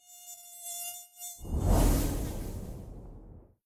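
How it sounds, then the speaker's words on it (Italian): A single mosquito indoors in winter whines with a thin, high buzz that wavers for about a second, followed by a louder, nearby whooshing rush that fades out. "ci si ritrova una zanzara a dicembre in casa"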